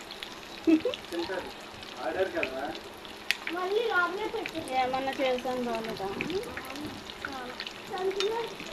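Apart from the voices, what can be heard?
chicken pakoda pieces frying in oil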